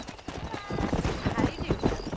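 A horse gallops in Red Dead Redemption, its hooves pounding in a fast, close, even rhythm that runs through the whole short stretch, with a little speech mixed in.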